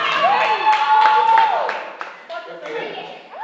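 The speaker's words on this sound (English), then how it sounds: "clap for them" An audience claps for a team at a group event, a short burst of scattered applause mixed with excited voices and shouts.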